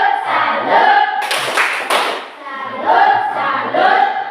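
A class of pupils gives a rhythmic "tepuk salut" salute clap for a classmate, with children's voices chanting over it and a brief burst of loud, dense clapping in the middle.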